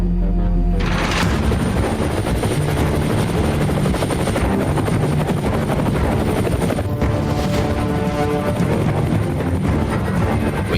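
Loud, steady rotor thump and turbine whine of a helicopter in Garry's Mod, holding close and continuous throughout, with a brief burst partway through that could be a blast or impact.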